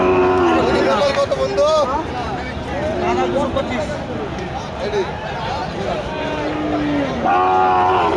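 Cattle, including Sahiwal and Gir bulls, low and moo repeatedly amid a noisy crowd of voices and general bustle at a livestock market in Joypurhat, Bangladesh, with people talking nearby throughout.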